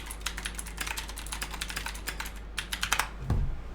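Rapid, steady typing on an EPOMAKER GS87D mechanical keyboard with blue clicky switches, each keystroke a sharp, close click in a quick run, ending with a heavier thump near the end. No one talks.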